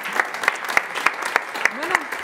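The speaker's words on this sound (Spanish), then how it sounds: "Y otro aplauso gracias, para chicos." Audience applause at a live concert, heard as steady, rhythmic clapping with sharp, evenly spaced claps over a dense wash of hands, alone and fairly close.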